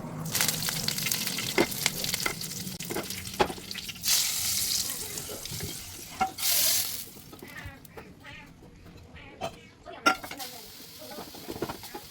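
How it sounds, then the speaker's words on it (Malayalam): Mustard seeds fry in hot oil as a tempering for a paneer and egg curry, making a close, crackly sizzle with scattered pops and brief pan clatter. Loud hissing surges come and go. "കടുക് വറുത്തിടാം"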